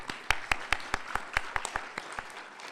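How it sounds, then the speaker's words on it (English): An audience gives a quick round of applause at a research panel, a run of sharp, distinct claps at a steady rhythm that thins out over a few seconds. "So we'll just stop and have a quick round of applause."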